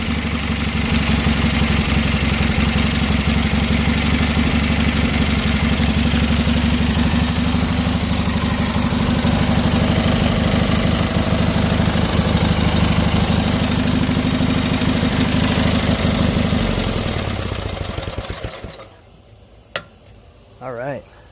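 A Briggs opposed twin engine with its stock muffler runs steadily and loudly for about seventeen seconds, a rough, buzzing drone that then cuts off and fades, leaving near silence with a couple of brief knocks.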